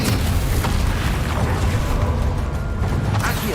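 Incendium fire spell blast in Hogwarts Legacy, a loud, dense roaring burst with a sustained rumbling low end and crackling noise that fills the whole moment without a break.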